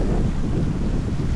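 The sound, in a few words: wind blowing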